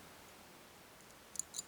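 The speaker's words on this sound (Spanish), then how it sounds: "primero un clic, segundo nada, tercero un ligero clic" A pick works a pin inside the TD60 cylinder of a TESA CL55 padlock, and a couple of tiny, faint metallic clicks come through near the end over a quiet background.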